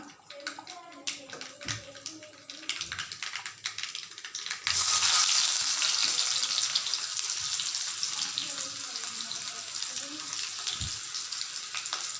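Onion dropped into hot oil after mustard seeds have spluttered, cooking for a Tamil mutton kuzhambu: a loud, dense sizzle surges in midway and holds steady, after earlier lighter crackling and a few clinks of the pan.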